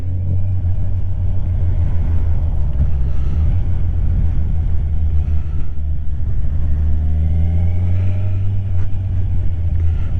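A Kawasaki Ninja 1000 SX sport motorcycle engine, not yet broken in, drones steadily while riding below 4,000 revs, with wind buffeting the microphone and the revs climbing toward the end.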